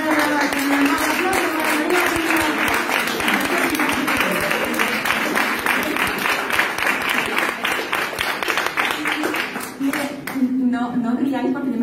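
An audience at a poetry recital in a hotel applauds loudly and continuously, dense clapping filling the room while a voice talks over it near the end.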